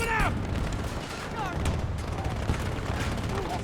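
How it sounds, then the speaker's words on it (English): Video game combat with a grenade explosion and gunfire, heard as a dense, continuous clatter of shots and booms with a few faint voices underneath. "Grenade going out."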